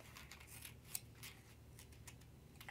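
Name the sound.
scissors trimming excess magazine paper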